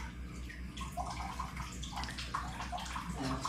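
Someone lowers into a birth pool of warm water at home, with soft sloshing, trickling and gurgling over a low steady hum, quiet and close.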